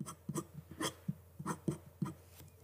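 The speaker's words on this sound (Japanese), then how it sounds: "坂道の顔は G ペンで" A G-pen nib scratches across paper while inking a manga character's face: short, dry strokes in an irregular rhythm, close and quiet.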